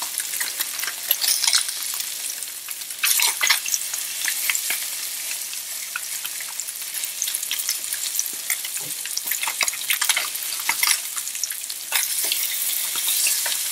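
Thin fish fillets fry steadily in a hot pan for grilled fish, a continuous crackling sizzle with occasional louder pops and spatters, close up with no voices.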